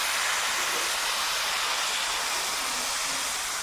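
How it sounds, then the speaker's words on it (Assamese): Water goes into a hot pan of soybean and potato curry, producing a loud, steady rushing hiss that holds nearly unchanged from start to end. "এতিয়া পানী দি দিলোঁ।"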